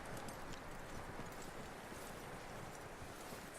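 Faint, distant horse hoofbeats clip-clopping steadily under a soft wash of wind and rustling, in the video game Red Dead Redemption 2.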